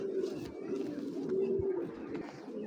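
Pigeons cooing up close, a steady run of low, throaty coos lasting a few seconds, with faint background noise.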